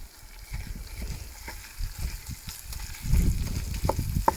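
500 grams of mince frying in a camp oven while it is broken up, a low crackling sizzle with scraping and stirring knocks that grows louder toward the end.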